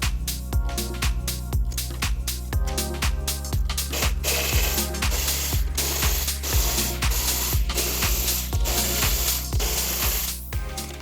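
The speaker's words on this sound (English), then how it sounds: "We're gonna go ahead and take all of these bolts off right here, as well as these two T30 bolts." Ratchet wrench backing out bolts from a BMW M340 (G20) body panel, a steady run of quick metallic clicks in repeated bursts, close and loud with no talking.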